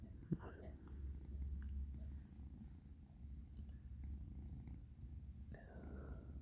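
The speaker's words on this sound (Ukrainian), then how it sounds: "камера може зловить, як мурчить." A soft, low, steady purr rumbles close up and faint, with a brief hushed voice near the end.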